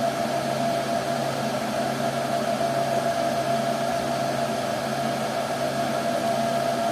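Submersible pump motor running steadily at about 1560 RPM, a constant even electric hum with a hissing noisy wash, moderately loud and unchanging throughout, with no speech.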